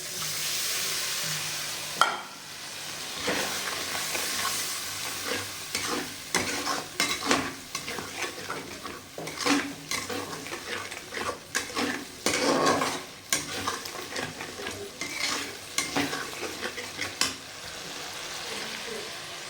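Masala frying in oil in a pan as lentil paste water is added and stirred, with a continuous sizzle broken by repeated scraping utensil strokes against the pan, alone and close.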